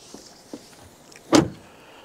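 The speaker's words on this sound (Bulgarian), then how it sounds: "Голяма, не много тежка врата" A large, not very heavy door on a Land Rover Discovery Sport shuts with one solid close thud, preceded by a couple of light latch clicks, with no talking.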